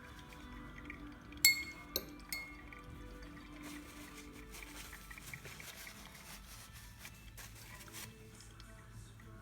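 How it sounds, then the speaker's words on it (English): A metal spoon being cleaned gives a few sharp clinks close by, then faint rubbing and light liquid sounds in a quiet setting. "I just clean my spoon."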